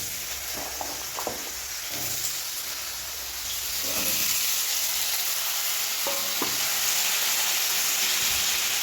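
Potato pieces dropped into hot oil with black cumin (kalo jeera) sizzle and hiss steadily at close range, with a few soft clinks and stirring knocks, and the frying grows slightly louder partway through.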